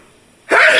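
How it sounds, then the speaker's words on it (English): A single abrupt sneeze bursts out after a brief quiet moment, close and loud. "Now I'm sneezing."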